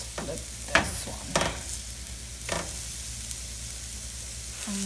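Fish patties sizzling in a hot pan as they are turned, a constant bright frying hiss broken by a few scraping flips and soft spatula clatters.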